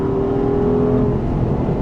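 An Audi R8 GT engine is held at high revs, around 6000 rpm, close by, a steady droning whine that stays constant throughout, with no voices.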